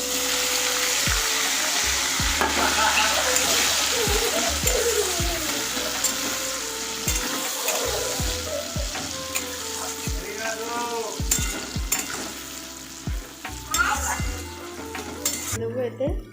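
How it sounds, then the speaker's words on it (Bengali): Chopped onion and tempering spices sizzle steadily in hot oil for mutton kosha, with frequent stirring scrapes and utensil knocks against the pan close by, the frying hiss easing slightly toward the end. "তো ফোড়নগুলো একটুখানি ফ্রাই হয়ে যাক, তারপরে আমি পেঁয়াজ কুচিটা দেবো।"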